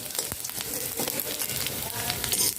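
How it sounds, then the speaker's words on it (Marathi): Grated coconut fries in hot oil in a pan, giving a continuous close crackling sizzle at an even level throughout. "आपल्याला फक्त अर्धा ते 1 मिनिट हे तेलात छान परतवून घ्यायचं आहे"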